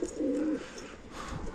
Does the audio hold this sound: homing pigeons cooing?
yes